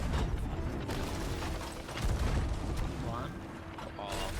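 Ship cannons firing chain shot in the video game Sea of Thieves, repeated heavy booms and mechanical clatter over a rumbling sea-battle din, with someone talking over the action.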